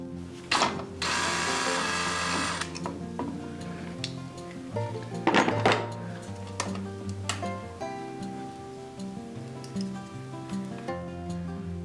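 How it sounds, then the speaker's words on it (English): Screws being backed out while a barn light fixture is pulled down, heard as a close ratcheting, clicking mechanism with a short harsh whir near the start and scattered metallic clicks. No talk is heard. "the first thing I'm going to do is take these 2 screws out and then pull this down"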